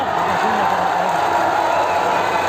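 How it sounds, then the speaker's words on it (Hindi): Loud, sustained clapping from a big rally crowd fills the moment as a steady roar, with a voice briefly audible underneath. "दबा के ताली बजाई।"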